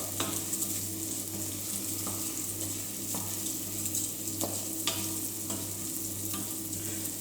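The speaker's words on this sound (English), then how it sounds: "We toast the rice for about a couple of minutes." Carnaroli rice toasting in a pan for risotto, a steady close sizzle and crackle with occasional stirring scrapes over a low hum.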